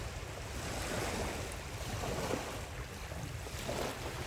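Sea waves wash onto the shore in a continuous, rushing surge mixed with gusty wind buffeting the microphone, a steady wash without any voices.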